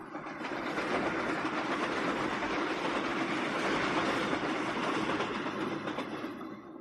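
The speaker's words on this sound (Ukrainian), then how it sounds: "Поїзд ішов швидше та швидше, і незабаром вокзал лишився позаду." A train gathering speed as it pulls away from a station, a steady rolling rumble with rhythmic clickety-clack of wheels, loud and sustained before easing slightly at the end.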